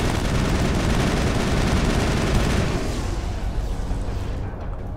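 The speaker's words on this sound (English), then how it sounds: "Something recon, something or another, was shooting at us." Sustained enemy gunfire in Mass Effect (2007), a dense, loud barrage of rapid shots and rumbling impacts on the Feros combat level that thins slightly toward the end, with no talk over it.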